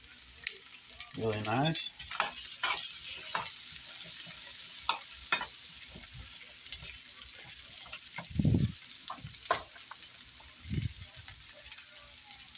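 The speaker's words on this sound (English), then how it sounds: "We're gonna saute those" Onion, garlic and other ingredients for Hungarian chicken sauté in a pan, a constant bright sizzle broken by repeated spoon scrapes and clatters, close up, with a brief spoken comment and a few low thumps.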